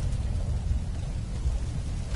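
Steady rain in the video game Submerged: Hidden Depths, falling outdoors around a metal ladder on a skyscraper, a continuous close hiss with a low rumbling undertone.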